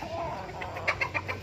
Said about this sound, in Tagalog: Puro manok dito.